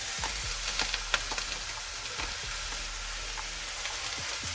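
Onions and vegetables frying in a pan for homemade chicken and shrimp hibachi, an even low sizzle broken by scattered spatula taps and stirring, close and quiet.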